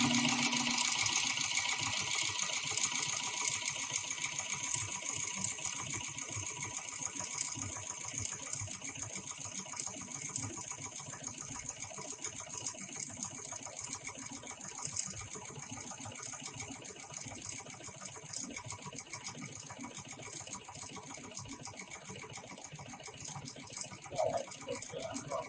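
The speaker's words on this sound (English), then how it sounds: "Machine start to wind thread." A programmable heavy-duty sewing machine for large thread and very thick material winds thread onto its bobbin, a steady low whirring drone lasting the whole stretch with faint rattles, no talk.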